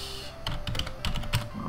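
Computer keyboard on an MS-DOS gaming PC being typed on while editing the autoexec file, a quick irregular run of close, crisp key clicks with short pauses between bursts.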